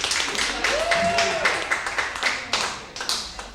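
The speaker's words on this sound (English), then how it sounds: "give him a big round of applause" At a live improv comedy show, the audience claps and cheers: rapid, uneven clapping builds and carries on under a brief rising vocal whoop and some crowd voices, fairly close and loud.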